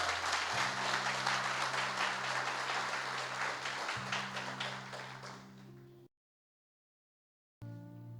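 Dense applause from a church congregation fills the first six seconds over a low sustained musical drone, then cuts to silence before the music briefly returns.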